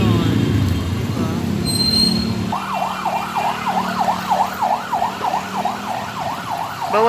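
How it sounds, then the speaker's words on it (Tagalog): An ambulance siren yelps in a fast rising-and-falling cycle on a busy street in Pateros. It starts partway in and continues steadily over traffic rumble, with people talking during the opening seconds. "Tunog ng ambulansya."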